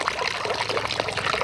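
A small amount of water is poured, trickling and splashing steadily, close by, while cooking chicken curry, with no voices.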